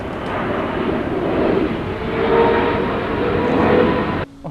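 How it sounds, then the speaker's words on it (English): A fixed-wing airplane roars low overhead beside an abandoned village next to Paris's biggest airport, a loud sustained broadband engine rumble that swells and holds for several seconds before cutting off abruptly near the end. "nobody would want to live where you have planes flying over you so low"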